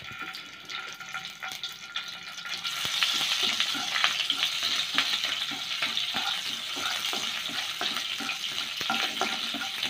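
Ginger paste hits hot oil in a pan and bursts into a loud, steady sizzle after a quieter start, with faint clinks of stirring running through the frying.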